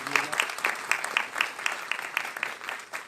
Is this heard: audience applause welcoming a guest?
yes